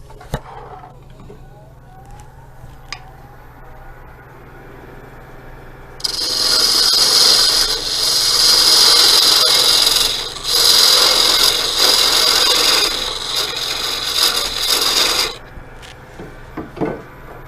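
Wood spins on a Rikon 70-220VSR midi lathe as a tool squares off the end of a salt or pepper mill blank, giving a loud steady scraping hiss for several seconds over a low motor hum.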